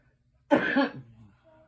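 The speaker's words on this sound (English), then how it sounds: "Pardon my cough." A single harsh cough from a person with lung disease bursts out close by, followed by a brief raspy tail and a faint trailing breath.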